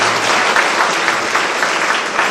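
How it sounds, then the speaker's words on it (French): Applause from a congregation for the children at a Christmas Eve children's mass, a steady dense clapping from many hands that fills the whole stretch without any talk over it. "Il faut applaudir les enfants."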